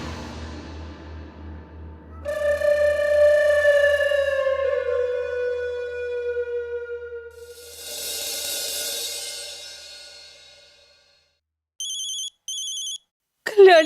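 A telephone rings in a domestic drama scene: a melodic ringtone plays for several seconds, then a couple of short bright electronic trills follow, fairly close and clear, with no talking over it.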